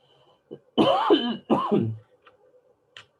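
Two harsh, close coughs from a person with allergies in quick succession, preceded by a small throat sound and followed by faint quiet noises.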